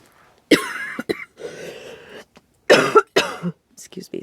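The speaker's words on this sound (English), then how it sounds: "Now the coughing starts." Several sharp coughs and throat-clearing bursts come in quick clusters from one nearby person indoors, with short quiet gaps between them.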